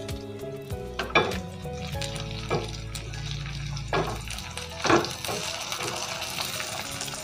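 Onions sautéing in a pan with curry leaves and dried chilies for a breadfruit milk curry, giving a steady soft sizzle with occasional spoon scrapes and clinks against the pot under a low hum.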